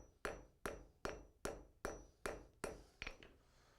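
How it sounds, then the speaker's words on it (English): A blacksmith's hammer peen strikes hot metal to texture it, seven or so sharp ringing blows in an even rhythm about every half second, close and clear with no talk. "back to the peen of the hammer. Putting the lines in it to give it a texture"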